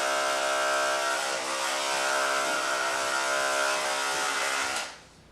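Electric clippers shave a small patch of fur on an animal's neck in a small-animal veterinary setting, giving a loud, steady buzzing whir that cuts off abruptly near the end.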